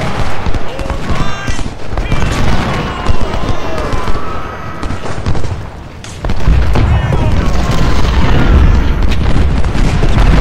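Artillery guns firing in the Civil War strategy game Ultimate General: Civil War, a loud, dense run of booms and crackling volleys, with a deeper rumble swelling toward the end and a voice heard faintly in places.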